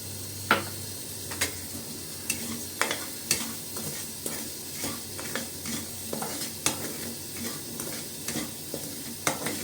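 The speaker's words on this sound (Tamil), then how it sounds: "நல்லா வாசனை வர அளவுக்கு நல்லா வறுத்து எடுத்துக்கலாம்" Ragi semolina roasts in ghee in a pan for ragi kesari, with a soft, steady sizzle broken by regular spoon scrapes and taps against the pan as it is stirred.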